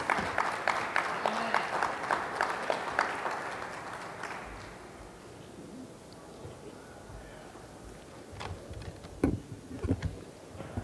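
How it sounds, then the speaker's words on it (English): Applause from the audience at the opening press conference of ALC '08 greets a congressman, brisk at first and then fading into a quieter room with scattered taps and faint voices. "Congressman Meeks, let's give him a hand."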